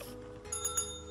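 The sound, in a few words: bell ringing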